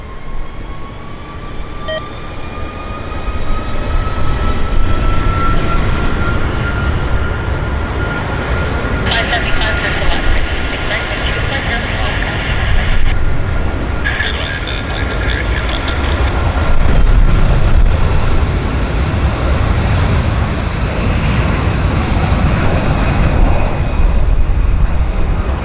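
An Air North Boeing 737-800 takes off at Vancouver airport, a loud sustained jet roar swelling and holding with a rising engine whine, while a commentator talks over it.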